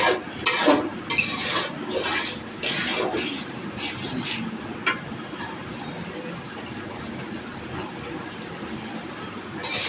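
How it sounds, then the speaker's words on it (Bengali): Food being stirred in a pan with a utensil, scraping and clinking in a steady sequence of strokes, louder in the first few seconds and then softer, with a low background hiss throughout. "সবাই দেখতে পাচ্ছেন আমরা কিছুক্ষণ নেড়ে নিলাম।"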